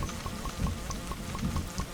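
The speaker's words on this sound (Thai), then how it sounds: "ตอนนี้ก็ฝนตกด้วยครับ" Steady rain falling in the survival video game 99 Nights in the Forest, a dense hiss of drops with a soft rhythmic pattering on top, continuous and fairly close, with no voices.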